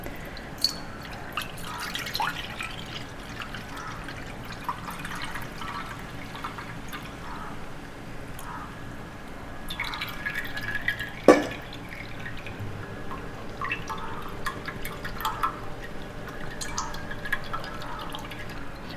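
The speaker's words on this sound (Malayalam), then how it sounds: "ഇതുപോലത്തെ അരിപ്പ്, ഇതിൽ നമുക്കൊന്ന് അരിച്ച് കൊടുക്കാം." Halwa mixture strained through a fine sieve drips quietly and unevenly for a while, with one sharp clink partway through.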